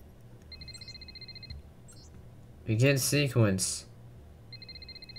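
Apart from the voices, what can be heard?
ringing in video game From Earth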